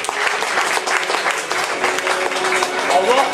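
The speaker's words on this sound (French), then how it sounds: "On applaudit Frédéric très fort." Audience at a magic show applauds a volunteer named Frédéric, a dense, steady wash of clapping from a room full of people, fairly loud throughout with a voice briefly rising near the end.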